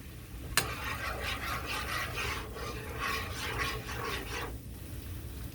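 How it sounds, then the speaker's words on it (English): A spoon stirs crushed tomatoes in a frying pan, making a steady wet rasping and scraping that runs for several seconds after a short sharp knock at the start, fairly close and with no talking. "we're just gonna give it a quick stir and add our crushed tomatoes"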